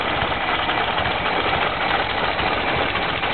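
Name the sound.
original engine of 1927 Ford Model TT wrecker truck running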